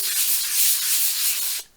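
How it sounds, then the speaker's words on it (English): A 3M sanding block fitted with 180 grit sandpaper rubs across a plaster surface in a steady, close, rasping scrape that stops abruptly near the end. "Literally a couple of minutes with that 3M sanding block and the 180mm grit sandpaper, and the surface was beautifully flat"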